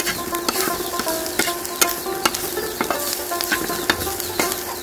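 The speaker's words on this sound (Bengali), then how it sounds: "আমার ফ্রাই হয়ে আসছে এগুলা" Ginger and spices frying and being stirred in a pan, a close, continuous sizzle broken by sharp clicks and scrapes of the spoon.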